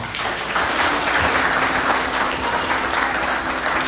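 A church congregation claps in praise of the Lord, a dense, even wash of many hands applauding together, loud and close, holding steady without a break and with no voices standing out.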